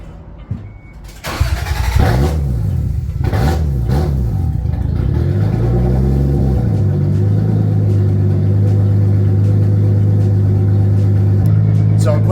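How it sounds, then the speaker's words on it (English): A car engine with a straight pipe exhaust and no muffler fires up in a garage, revving in several loud rising and falling bursts before settling into a steady, rumbling idle. "let's fire this thing up and you guys will be able to see, again, here, you can't see the sound, hear how good it sounds with a straight pipe on there"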